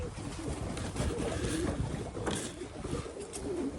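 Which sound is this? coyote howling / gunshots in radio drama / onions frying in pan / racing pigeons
racing pigeons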